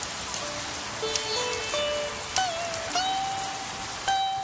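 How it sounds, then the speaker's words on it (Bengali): Cartoon rain falls as a steady hiss of drops pattering on a surface, with scattered brighter drip accents and tonal plinks over the constant wash, no voices. "বৃষ্টিটা বেশ কমে এসেছে"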